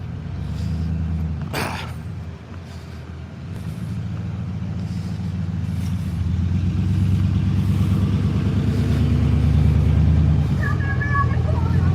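Short buses rolling past on a city street with air brakes, a low rumbling engine drone that builds and grows louder, a sharp hiss of released air early on, and people talking over the traffic.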